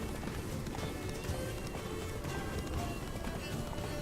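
Horse galloping in The Witcher 3: Blood and Wine, a rapid, continuous run of hoofbeats close by under a voice talking.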